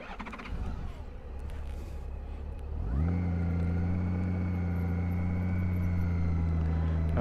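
A motorcycle moving slowly in first gear for a U-turn: the engine rises at about three seconds into a steady, close, loud drone with a strong low hum. It holds evenly to the end, with nobody speaking.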